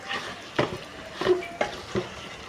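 Chicken bhuna masala with Kashmiri chilli powder being roasted and stirred in a pan, heard as a few distinct scraping strokes against a soft background sizzle, with no talking.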